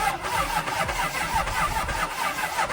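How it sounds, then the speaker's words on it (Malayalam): A Toyota car engine, under restoration and suspected of a fuel pump fault, is cranked to check its condition, giving a steady, rhythmic starter churn with pulsing bursts close by. "വണ്ടിന്റെ എഞ്ചിൻ എങ്ങനെ കണ്ടീഷൻ നോക്കാൻ ജസ്റ്റ് ഒന്ന് അടിച്ചു നോക്കി."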